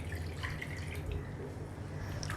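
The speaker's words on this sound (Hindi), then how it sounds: "जिस बोल में हमने मसाला रखा था उसमें हम 1 कप पानी ऐड करके हम इसमें ऐड कर रहे हैं" A cup of water is poured into a pot of masala for spiced chickpeas, with close, soft liquid trickling and dripping sounds.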